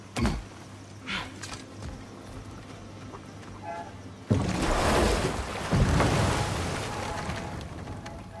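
A boat sails across open water in the video game God of War Ragnarok, with a low, steady rush of water and wind that swells noticeably louder halfway through and stays full to the end.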